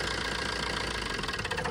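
Suzuki Swift engine idling with a faulty MAP sensor, a steady close mid-pitched engine drone with a slightly uneven, knocking pulse throughout.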